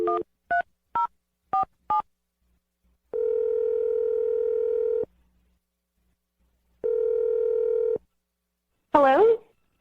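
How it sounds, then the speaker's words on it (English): Telephone keypad tones beep in a quick run of five short dial presses, followed by two long, steady dial-tone stretches separated by silence, then a brief rising voice-like chirp at the end. "I'm dialing the phone number right now."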